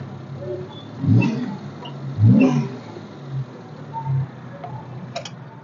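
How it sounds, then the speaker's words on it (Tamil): A used Maruti Omni van's engine idles after starting, giving a steady low hum with a light, even ticking rhythm and two louder rough bursts near the start, heard close up with no talking. "வண்டி பார்த்தீங்கன்னா ஸ்டார்ட் பண்ணியாச்சு ஸோ வண்டியில் அவுட்லுக்கு பாடி இன்டீரியர் எல்லாத்தையும் பார்த்துருப்பீங்க வண்டியோட சவுண்டை கேளுங்க"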